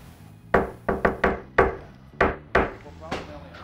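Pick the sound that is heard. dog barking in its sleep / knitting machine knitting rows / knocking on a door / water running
knocking on a door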